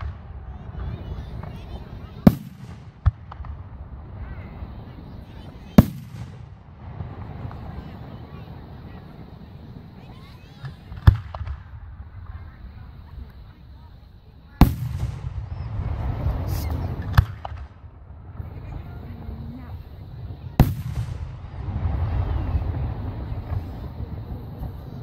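Fireworks at a sesquicentennial celebration in Saline: a series of sharp, distant booms and cracks spaced several seconds apart over a steady background rumble and wind.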